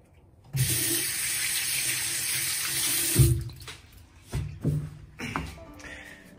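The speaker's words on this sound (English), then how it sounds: "Wash my hands because that was disgusting." Water from a tap runs steadily into a sink for about three seconds while hands are washed, then stops, followed by a few short splashes and handling knocks.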